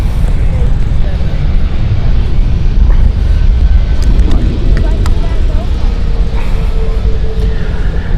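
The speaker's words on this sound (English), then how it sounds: "EasyJet Palma flight just inbound." An EasyJet airliner inbound on approach to Amsterdam Schiphol Airport, a loud continuous low jet roar under steady rumbling, with faint higher whines and clicks drifting through.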